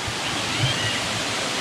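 Erawan waterfall in Thailand, a steady, dense rushing of falling water heard close and continuously with no pauses.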